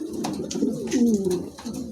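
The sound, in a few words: pigeons cooing, a pair of bullhead long-face pigeons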